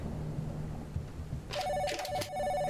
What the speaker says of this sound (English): Is that my landline?